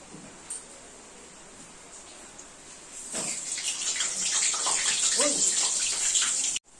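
Tap water runs steadily over rice set to soak, a soft trickle that turns into a stronger, continuous splashing flow partway through before cutting off abruptly.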